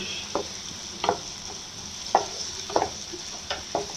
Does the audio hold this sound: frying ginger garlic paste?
yes